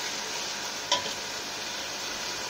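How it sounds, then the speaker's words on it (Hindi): Potato masala gravy fries in a pan with a steady broadband sizzle and one brief stir or clink near the middle, no voices present. "इसको भी हम तकरीबन 3 मिनट तक 3 से 4 मिनट के लिए अच्छी तरह से फ्राई करते हैं इसमें।"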